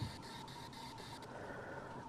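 A ghost-hunting spirit box emits a steady, harsh static hiss with a buzzing tone, interrupted by rapid regular chopping clicks as it sweeps, heard alone and fairly quiet.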